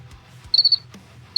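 Cricket chirps come as quick, high trilling pulses, one short cluster followed by another brief burst against near silence.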